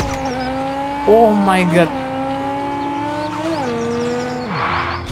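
A car's engine in Car Parking Multiplayer, a drift game, holds a steady tone and rises and falls in revs, with squealing tyres and a late crackle of exhaust pops. An excited voice breaks in briefly over it.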